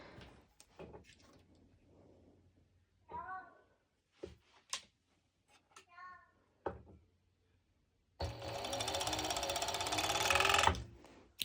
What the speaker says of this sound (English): I will be serging it. I will be actually doing it right now